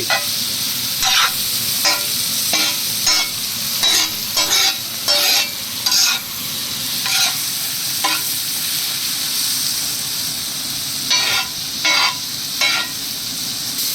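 Onions and chopped green chili stir-fry in a pan for vegetable fried rice: loud, steady sizzling broken by a series of sharp scraping spatula strokes in bursts, close up and without speech.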